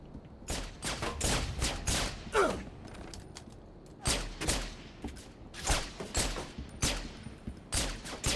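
Rapid bursts of gunfire in a Halo multiplayer shooter game ring out in repeated volleys across the stretch, loud and sharp with brief gaps between them and no talking.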